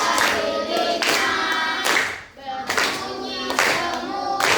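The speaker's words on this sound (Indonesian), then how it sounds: "tepuk jari 2, tepuk jari 3, tepuk jari 4, tepuk jari 5" A group claps in time in finger-clapping bursts, several sharp rounds of crisp clapping broken by a brief pause, loud and close.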